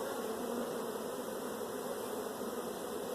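Honey bees drone steadily on a central brood frame pulled from a hive with a high mite load, a dense, continuous buzz held close and unbroken throughout.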